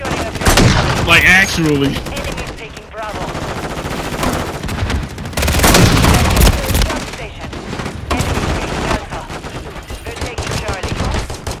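Dense, loud in-game gunfire and heavy booming blasts from a rocket launcher in a Call of Duty match, rapid shots and explosions packed throughout, with a player briefly talking over the action.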